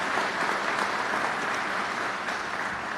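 Audience applause in a hall during a governor's bill-signing ceremony for first responders, a dense, steady wash of many hands clapping together throughout, close and full, with no speech over it.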